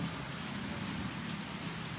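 Steady rain falls outside near buildings during a downpour, a dense even hiss of drops on surfaces that carries on unbroken and fairly loud, with no voices.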